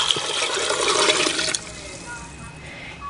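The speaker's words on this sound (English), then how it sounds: "Then I'm gonna put in 4 cups of hot water." Hot water gushes from a container into a pressure canner for about a second and a half, a close, splashing pour that then stops, leaving quiet room tone.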